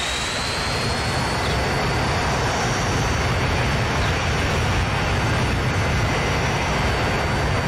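An aircraft in the Transport Fever 2 game gives a steady, loud jet engine roar with a high whine. The sound is continuous and unbroken, with no talk.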